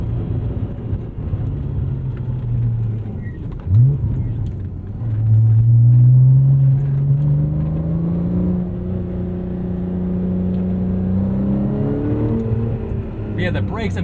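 A 2012 Porsche 987.2 Cayman R engine drones steadily from inside the cabin while driving, rising and falling in pitch through gear shifts, including a misshift into fourth, as a low continuous rumble under intermittent talk.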